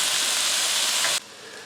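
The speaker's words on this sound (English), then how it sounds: "while this is cooking with the onions and the garlic and the ginger" Ground turkey fries in a pan with onions, garlic and ginger, giving a loud, dense, steady sizzle that cuts off abruptly to a much softer hiss near the end.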